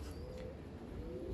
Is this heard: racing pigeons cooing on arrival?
yes